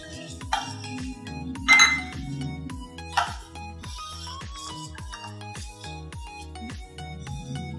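A metal spoon stirs jaggery into melon seed juice in a glass, producing a rapid run of bright, ringing clinks against the rim, loud and close, with brief soft scraping between strikes.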